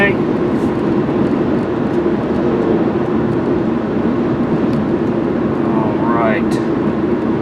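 A 2001 Nissan Altima GLE sedan cruises at about 50 mph, heard from inside as a steady, even road and engine rumble with a soft airy hiss. It runs continuously, and a person talks over it.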